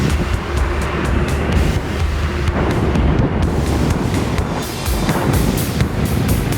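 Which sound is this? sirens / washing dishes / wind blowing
wind blowing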